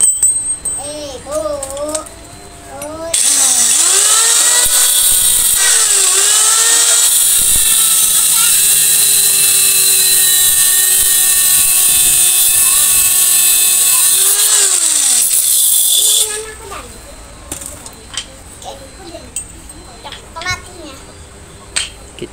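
A power sander whines steadily for about thirteen seconds sanding the end of a fan shaft, starting and stopping abruptly, with a voice and small knocks before and after.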